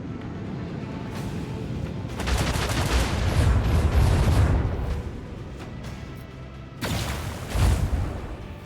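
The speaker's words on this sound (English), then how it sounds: "No, they're firing at my torpedoes." Ship weapons firing at incoming torpedoes in the Warhammer 40K game Rogue Trader, dense bursts of rumbling volley fire and booms in two loud waves separated by a quieter lull.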